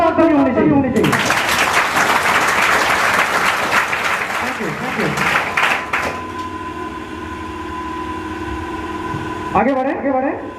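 Audience at a motivational business speech bursts into loud sustained clapping that fades into a steadier patter, with cheering voices and brief speech-like sounds mixed in near the start and end.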